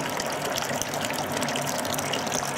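Wort splashing down the inside wall of a homebrew brewing vessel during recirculation, a steady, close, continuous rush and patter of liquid with no talk.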